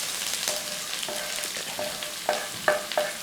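Sliced onion, carrot and green chilies sizzling in a hot pan for bitter gourd thoran, a close, steady frying hiss broken by a few sharp scraping stirs and clinks of a spoon against the pan.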